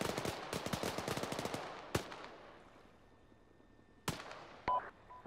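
Night co-op battle in Arma 3: a rapid automatic-weapon burst of sharp shots, then two isolated loud cracks separated by quiet, with a brief electronic beep near the end.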